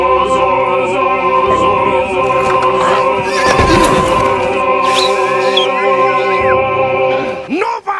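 A horse neighs loudly in a long, wavering whinny close by, with shrill rising cries breaking through near the end.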